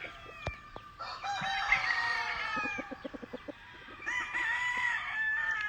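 Yellow-legged peacock roosters on a Louisiana farm crow loudly and close, with long drawn-out calls overlapping, a burst of quick clucking between them, and another crow rising at the end.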